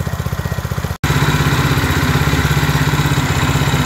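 A Bilt Hard 173cc small engine repowering a DR trimmer mower runs close and loud with a steady pulsing chug, broken by a brief cut near the start before resuming evenly.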